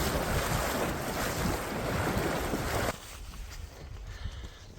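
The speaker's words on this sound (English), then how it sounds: "Crossing the Taruaro River." Rushing water of the Taruarau River on a Northern Ruahine tramping route, a loud, broadband wash close by for about three seconds, then dropping abruptly to a quieter, steady flow with light gusts of wind.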